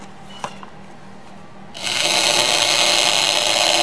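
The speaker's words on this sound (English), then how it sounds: "I've gone two sizes smaller on this drill" A power drill whirs up and holds a steady, high-pitched grinding whine as it bores into wood, after a quiet stretch with a couple of faint clicks.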